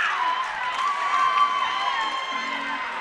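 Crowd noise fills a school volleyball final between Western Heights High School and Rangitoto College, a steady roar of cheering and shouting with Rangitoto ahead during a timeout in the third set.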